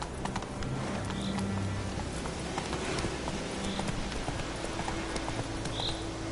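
Steady clip-clop of a horse's hooves in The Witcher 3, a continuous close rhythmic trot with no talk over it.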